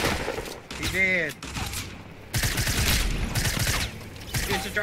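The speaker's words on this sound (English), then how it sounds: "It's a drive-by shooting." Fortnite gunfire from a drive-by shooting rings out in loud bursts, mixing with harmonic tones and game noise, while players talk over the action.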